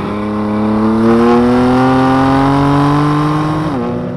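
A 2015 BMW M3 engine accelerates hard on the Mid-Ohio race track, a loud, close, steadily rising wail of harmonics that climbs smoothly for several seconds before a brief dip near the end.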